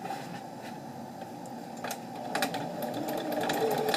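A sewing machine hums steadily as it stitches zigzags, with a continuous mechanical whir that swells slightly louder toward the end.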